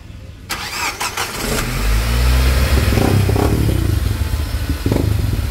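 A Nissan Livina with freshly replaced spark plugs cranks with a few quick starter bursts, then catches and settles into a loud, steady idle close by, with no talk.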